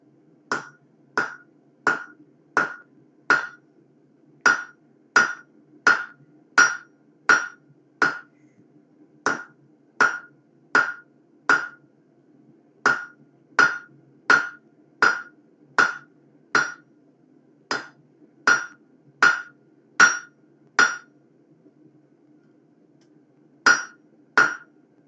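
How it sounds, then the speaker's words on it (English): Hot steel blacksmith tongs are hammered on an anvil horn in steady runs of sharp, ringing metallic blows, close and loud, with short pauses between bursts and no talking. "All right, so we're going to the horn of the anvil."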